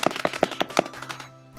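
A crowd produces a quick burst of five or six sharp, loud bangs, like clapping or stomping, imitating a thunderclap, then falls quiet.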